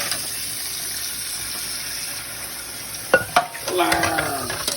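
Dishes washed by hand under running water: a steady wash of water, then a few sharp clinks and clatters near the end. No one speaks.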